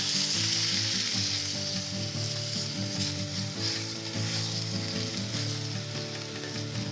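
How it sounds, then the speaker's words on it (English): Hot stock poured into barley risotto with kale and butternut squash sizzling in the pan, a loud steady frying hiss with bubbling and stirring, close up and without talk. "at this point, we begin slowly to add the hot stock"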